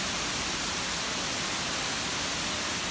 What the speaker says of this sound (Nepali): यो चाहिँ पुरनधाराको झरना है